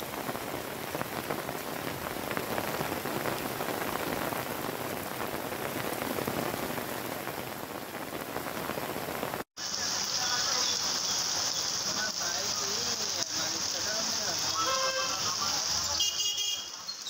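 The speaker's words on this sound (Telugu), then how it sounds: "పలు ప్రాంతాల్లో వర్షం దంచి కొడుతోంది" Heavy rain pouring down in Hyderabad, a dense steady hiss of rain on surfaces, then an abrupt cut to a different rainy scene with a high tonal hum and patter.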